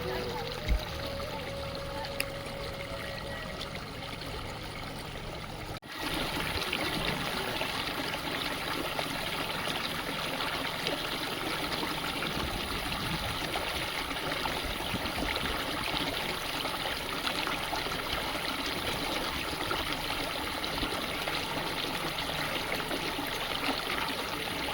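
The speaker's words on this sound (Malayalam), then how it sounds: "ആ വെള്ളത്തിൻ്റെ സൗണ്ടൊന്ന് കേട്ട് നോക്കി" A warm-water stream at Nakhal hot spring in Oman flows with a steady rushing, trickling wash that gets louder after a few seconds and carries on without a break.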